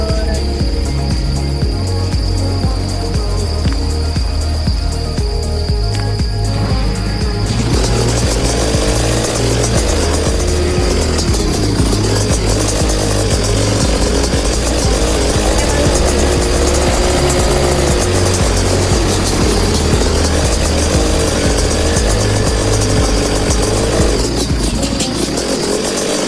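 A motorcycle engine runs loud and close, a continuous rough drone that rises in intensity partway through and keeps revving steadily without any talk.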